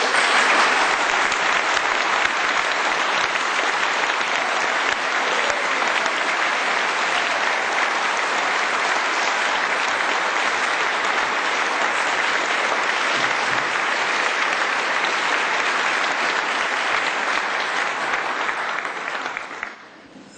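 Sustained, loud audience applause welcoming a speaker at a lecture, dense clapping from a large crowd holding steady for about twenty seconds before tapering off at the end.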